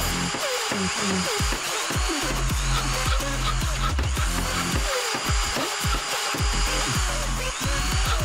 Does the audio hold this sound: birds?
no